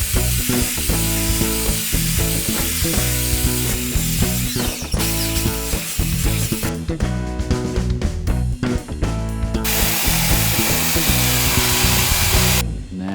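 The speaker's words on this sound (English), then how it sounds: "And then now just sand that smooth." Wood is sanded smooth with coarse P40 sandpaper, likely a power sander, while upcycling a kids' table into an industrial rustic table: a loud, continuous abrasive buzz with a steady tonal hum, close up, changing slightly in pitch and texture throughout.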